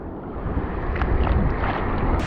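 A bass fishing boat pounds across rough, big waves, a steady loud rush of hull and water noise with wind buffeting the microphone throughout, a few splashy slaps standing out.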